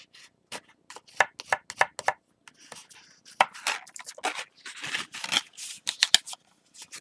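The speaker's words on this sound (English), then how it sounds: "I'm going to go in here with my bone folder to kind of like flatten this out just a little bit" Bone folder pressed and dragged across paper in a craft project, producing close, faint scraping and crinkling strokes in irregular short bursts with brief pauses between them, without voices.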